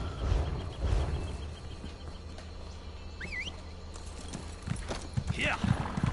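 Horse mount hoofbeats in the video game Elder Scrolls Online, a dwarven warhorse, clip-clopping softly in a steady trot under speech, with faint birdsong and an occasional whinny-like sound.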